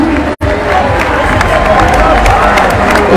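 Loud crowd at a banda festival prize-giving in Condom cheering and applauding the jury, a dense steady roar of clapping and voices, broken by a brief dropout near the start.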